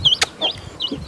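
A chick or hen clucking near the microphone in a few short, sharp calls spread over about a second, with no talk.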